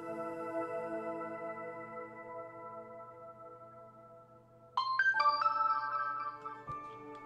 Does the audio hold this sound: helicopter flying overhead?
no